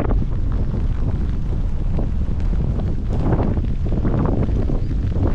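Heavy wind roars and buffets the microphone continuously outdoors in Kyrgyzstan, a loud, rumbling gusty blast with no voices.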